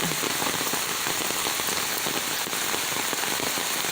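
Steady rain falling on a bamboo plantation, pattering on surfaces, a dense continuous hiss with scattered drop taps, no voices.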